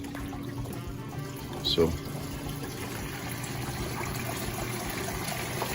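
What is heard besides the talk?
water trickling over the tank edge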